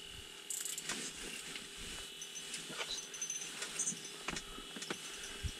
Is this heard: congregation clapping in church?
no